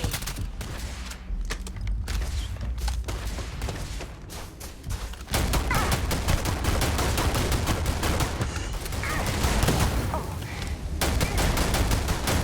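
Enemy gunfire in the space game Starfield: dense, rapid, continuous bursts of shots crackle loudly throughout, growing heavier partway through and never pausing.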